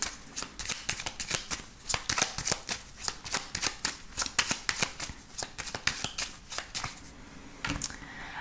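A 32-card deck shuffled for a card reading, a fast run of crisp riffling and snapping bursts repeating steadily at close range with no talk.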